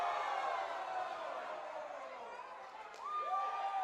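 A wrestling arena crowd roars and cheers steadily after a high-risk dive from the stands crashes and fails, a dense wash of voices with a rising whistle near the end.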